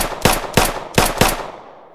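Four sharp, loud gunshots fire in quick, even succession in the video game Unturned, each a close, punchy crack with a short decaying tail.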